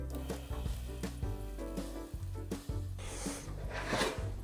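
Vegetables sizzle steadily inside a preheated air fryer, a soft continuous crackle and hiss with faint popping, quiet and close with no voices.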